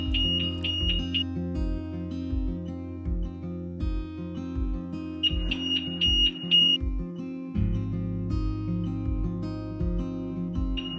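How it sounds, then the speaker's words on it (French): Original factory alarm on a BMW R 1250 RT motorcycle: two bursts of rapid high-pitched beeping, each a second or two long, over a steady low pulsing electronic drone that repeats throughout, with no talking. "Voici l'alarme d'origine."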